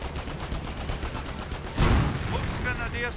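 Gunfire against snipers in the World War II strategy game Company of Heroes: dense rattling bursts of rifle and machine-gun fire, with a heavier blast partway through and rapid stuttering shots near the end.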